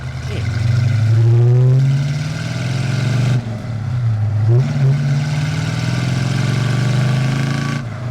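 A red classic car drives past with a steady mid-pitched engine note that swells, dips briefly and rises again, loud and close, with someone talking over it.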